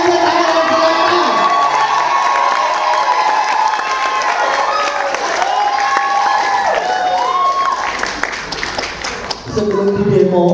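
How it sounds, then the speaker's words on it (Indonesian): A large crowd in Tangerang Selatan cheers, claps and shouts together for about ten seconds, loud and dense, with high voices and whoops rising above sustained applause that dips briefly before swelling again. "Saya ingin melihat tepuk tangannya Tangerang Selatan."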